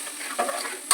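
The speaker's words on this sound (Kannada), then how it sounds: "ಫ್ರೈ ಆಗಬೇಕಂತ ಮಿಕ್ಸ್ ಮಾಡ್ಕೊಂಡು ಚೆನ್ನಾಗಿ ಫ್ರೈ ಮಾಡ್ಕೊಳ್ಳಿ" Chopped onions frying in a pan for an egg gravy, stirred with a spoon: a steady soft sizzle with a couple of brief louder scraping stirs, close and alone.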